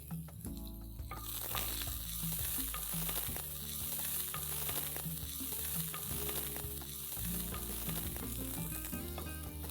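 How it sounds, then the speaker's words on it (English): Chopped ginger and garlic fry steadily with carom seeds in hot oil, a dense continuous sizzle with occasional stirring scrapes, close and fairly loud throughout, with no talking. "I'm going to add a tablespoon of chopped ginger and a tablespoon of chopped garlic."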